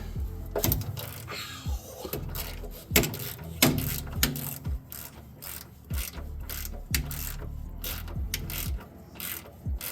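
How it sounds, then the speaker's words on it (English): A ratchet with a 5/8 socket loosens a vehicle's oil drain plug, making close, loud clicking in repeated bursts with sharp metallic knocks between strokes, no voices. "Using a 5/8 socket, I'm going to loosen the drain plug."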